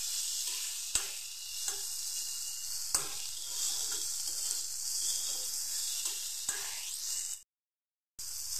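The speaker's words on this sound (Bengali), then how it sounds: "আলু বেগুনটা একটু লাল লাল করে ভেজে নেব" Potatoes and eggplant frying in hot oil in a pan, giving a steady close sizzle with a few sharp stirring knocks, before the sound cuts out abruptly near the end.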